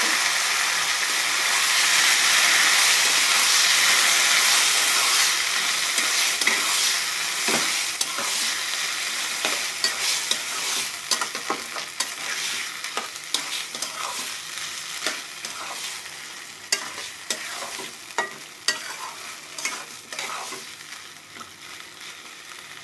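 Chopped vegetables sizzle steadily in a pan of browned garlic for a homemade samosa filling, with frequent stirring clicks and scrapes; the hiss is loudest at first, then settles as the stirring grows more rhythmic.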